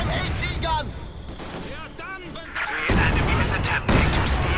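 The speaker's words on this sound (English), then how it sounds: "Dual heavy mortars here by Bangi" Heavy mortar fire in Company of Heroes 2, a 1v1 match with Soviet forces: booming artillery blasts and gunfire crackle through a busy battlefield mix, growing louder in the second half, while a commentator talks over it.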